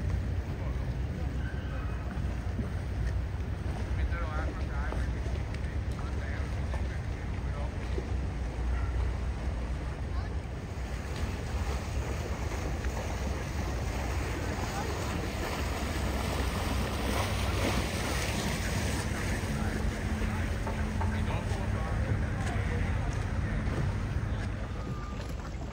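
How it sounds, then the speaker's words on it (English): Boat engines and gondolas drone steadily over lapping water and wind noise on the Grand Canal in Venice, with indistinct voices mixed in throughout. "Watch the gondolas and boats zipping around."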